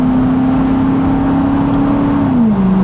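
A C6 Chevrolet Corvette engine pulls hard under loud, sustained acceleration, its tone rising steadily before a brief dip as it shifts, heard close with no talking.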